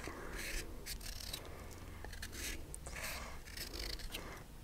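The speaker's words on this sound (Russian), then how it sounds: "Я ее немножко почищу и нарежу кубиками." Crisp knife chops a firm, juicy fresh carrot into cubes on a board, a quick run of sharp taps with short pauses, fairly quiet and close, with no talking.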